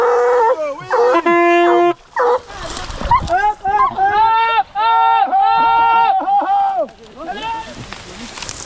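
Hunting dogs bark, yip and howl during a boar hunt in Brittany, a loud, near chorus of repeated bays and whines with short gaps, and no speech over it.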